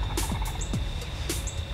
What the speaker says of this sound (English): a turkey out in front of us started gobbling